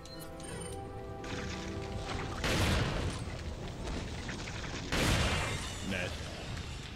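Two heavy booming shotgun blasts go off in a video game, each a loud broadband burst a couple of seconds apart, with game sounds and a talking player underneath.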